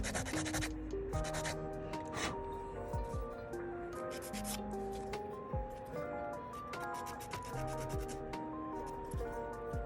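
A nail file rubs and scrapes along the edges of press-on nails in quick, repeated strokes, close and fairly steady, under continuous background music.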